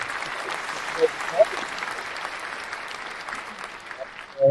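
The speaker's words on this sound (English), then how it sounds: "So a big round of fake applause for this." Canned applause sound effect plays at low level, a soft continuous patter of clapping with a few brighter spikes, set under a podcast host's recap.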